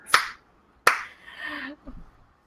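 Two sharp, close hand claps ring out about a second apart, followed by a brief murmur of voice.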